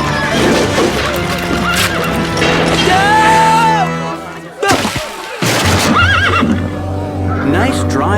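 Wild horses pulling a chariot in an animated mythological series whinny and neigh loudly amid crashing, thunderous impacts and a dramatic score, with voices talking over the turmoil.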